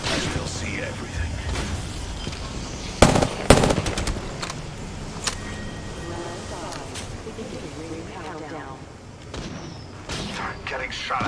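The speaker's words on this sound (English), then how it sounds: "Getting shot at. Take fire." Video game gunfire with the player under attack: bursts of rapid shots and heavy thumps, loudest around the middle, over a constant busy battle din.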